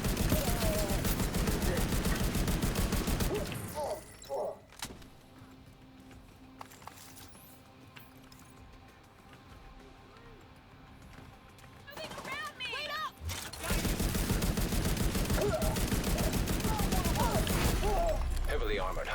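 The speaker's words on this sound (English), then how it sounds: "some of the shots here are going over my shield" Bursts of video-game gunfire strike a player's shield in a loud, dense barrage, then fall away to quieter game sounds before a second heavy volley resumes near the end.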